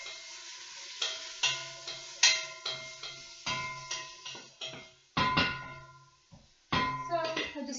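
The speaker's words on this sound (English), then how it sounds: "Stir it a little bit to distribute the oil and get that going." A long wooden spoon stirs vegetables in oil inside a soup pot, giving a series of hollow knocks and scraping strokes at an uneven pace, each with a short ringing tail from the metal pot. A faint sizzle sits underneath.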